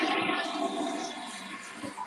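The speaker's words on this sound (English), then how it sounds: "Oh, toilet flush." A toilet flushes close by, a steady rushing wash of water lasting about two seconds with no voices over it.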